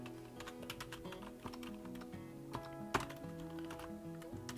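Quick keystrokes clatter on a computer keyboard, a steady run of close, crisp clicks with a few louder taps, while a tonal hum carries on behind.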